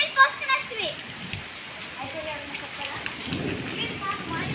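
Steady rain patters in Bangalore, with a few faint voices and distant low rumbles underneath.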